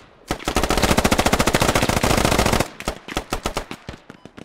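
Gunfire in the military shooter Squad during compound clearing: a long, loud, rapid automatic burst lasting about two seconds, followed by a slower string of individual shots, close and alone without talk.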